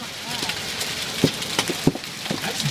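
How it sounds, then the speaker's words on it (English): Hail striking surfaces outside during a storm in Boston, heard as irregular sharp impacts over a steady rushing patter, with people talking nearby. "No, I don't want to get hit by hail."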